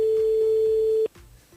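A telephone tone sounds during a radio call, a steady, loud, close electronic tone that cuts off abruptly, followed by a quieter, shorter tone at the end.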